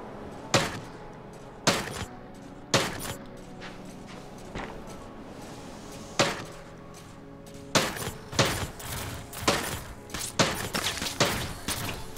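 Enemy gunfire in the Mars survival game Memories of Mars, loud sharp shots scattered across the stretch, growing into a denser flurry of overlapping bangs toward the end.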